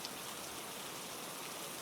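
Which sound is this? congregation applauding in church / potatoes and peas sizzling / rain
rain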